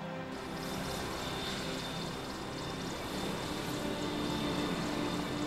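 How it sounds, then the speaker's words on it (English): A Royal Navy Merlin combat helicopter, a steady, loud rotor and turbine roar filling the whole clip without letup. "the most modern combat helicopter in service anywhere, the Royal Navy's Merlin"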